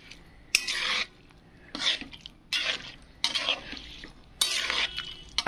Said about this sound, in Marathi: तर छानपैकी असं मिक्स करून घ्यायचं आहे.